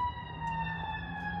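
An ambulance siren wails on a city street, a steady high tone sliding slowly in pitch, moderately loud and close with a faint rumble of traffic beneath and no talk.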